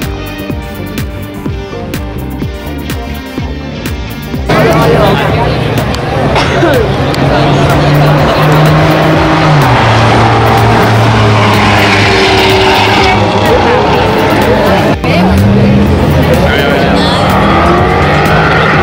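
A pack of NASCAR race cars led by a Mustang pace car at a race meeting in Valencia, Spain, roaring loudly past in a sustained engine drone with shifting pitch, crowd babble and a voice talking underneath.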